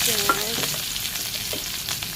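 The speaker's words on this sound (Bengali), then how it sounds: "কড়াইয়ের মধ্যে তেলটা দিয়ে দিচ্ছি" Oil crackles and sizzles steadily in a hot wok, with a continuous dense hiss of frying and no talk.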